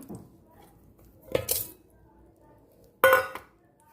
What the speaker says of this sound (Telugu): ఇదే జార్లో డ్రై ఫ్రూట్స్ ఇవి వేసేద్దాం